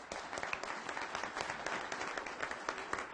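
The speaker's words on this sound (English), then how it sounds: "I'm okay if you all clap" Applause from a city council meeting audience greeting a dance-loving student award recipient, steady and moderately distant, with the crowd clapping continuously and no voices over it.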